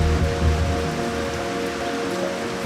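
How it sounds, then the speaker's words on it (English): Heavy rain pours steadily over Glenveagh National Park, a dense, even hiss with a faint low hum beneath it, holding at the same level throughout with no voices. "The rain has just picked up."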